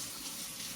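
Water from a tap rinses through the fabric pre-filter cover of a Bronco air filter, a steady close gush of running water with no talk.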